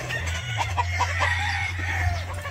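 Gamecock rooster on a farm crowing up close, a loud strained call with a short throaty clucking edge, heard alone without talk.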